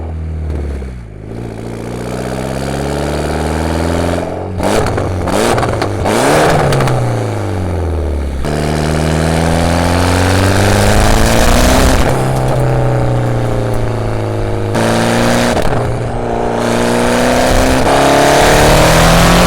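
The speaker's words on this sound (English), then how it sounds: "with the Tomei exhaust, it sounds like a full-on freaking F1 race car thing" A Mitsubishi Evo X fitted with a Tomei titanium exhaust revs hard and loud, its pitch climbing and falling through several sharp, high-pitched rev sweeps with a raspy, race-car-like wail and no talking.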